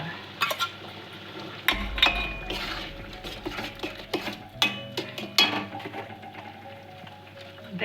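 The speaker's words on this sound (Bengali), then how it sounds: "জিরে আর গরম মশলা ভাজা" Cumin seeds and garam masala fry in a pan, a low sizzle under frequent metal clinks and scraping from a stirring spoon against the pot.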